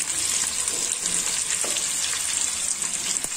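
Vegetables for a potato sabzi fry in a pan with garam masala, giving a loud, even, hissing sizzle with a few light stirring clicks.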